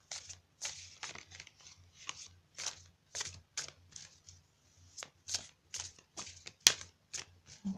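Cards from a healing energy oracle deck being shuffled and drawn, a quick run of close papery flicks and riffles with brief pauses between them.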